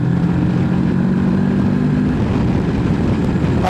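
A 2022 Moto Morini X-Cape 650 motorcycle rides along in fourth gear, its engine a steady, loud drone mixed with wind rush that holds constant for several seconds with no one speaking.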